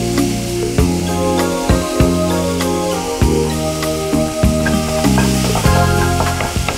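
Curry leaves dropped into hot oil in a pan, sizzling and spattering loudly and close up, with steady crackling under a bright musical tone and no speech.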